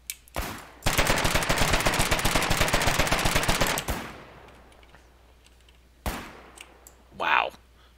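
Submachine gun fire in the video game Foxhole: a close, rapid, sustained burst lasting about three seconds, framed by isolated single shots, with a brief voice near the end.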